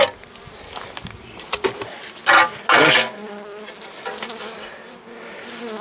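Honeybees hum at the entrance of a frameless hive with a cracked body, a steady buzzing close by, broken by a few louder bursts as insects pass near.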